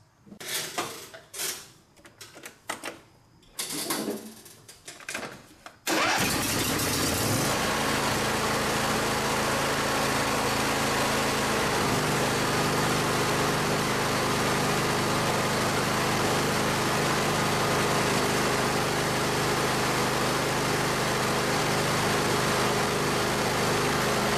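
A John Deere riding lawn tractor, just serviced with fresh oil and filter, is cranked after some brief clattering handling noises, catching suddenly into a loud, close, steady idle that drones on unbroken.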